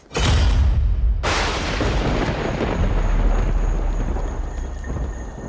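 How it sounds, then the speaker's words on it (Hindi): A deep thunder crash of an approaching heavy rainstorm in an ancient-era drama booms in after a brief break, then sustains as a loud, broad rumble for several seconds with no voices. "लगता है भारी वर्षा होने वाली है।"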